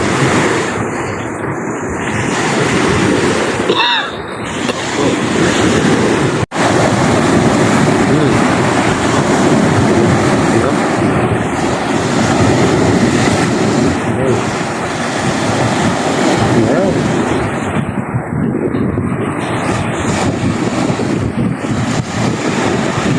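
Strong ocean waves breaking at a Philippine beach where people swim and snorkel, heard as a loud, continuous roar of surf mixed with heavy wind buffeting the microphone, with a few faint distant voices.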